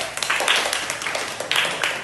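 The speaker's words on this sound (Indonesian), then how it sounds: "Oke, tepuk tangan dulu." Scattered clapping from a small group of students in a classroom teaching-practice session, a brief round of light hand claps with uneven rhythm, fairly close and moderate in level.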